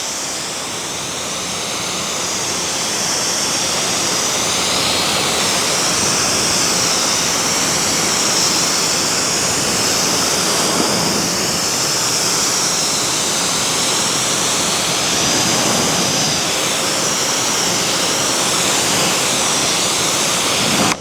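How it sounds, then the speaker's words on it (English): Steady, loud hiss of a water spray hitting a car's coated glass, continuous and close, with no break and no voices. "Let's see what happens when we hit it with water."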